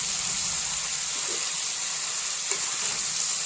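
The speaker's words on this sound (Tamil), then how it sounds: "நல்லா ஃப்ரை பண்ணிக்கலாம் அது திருப்பி திருப்பி விட்டு ஃப்ரை பண்ணிக்குவோம்" Dried seer fish fries with chili powder in a pan, giving a steady, even crackling hiss that holds throughout, close up and alone, with a couple of faint taps.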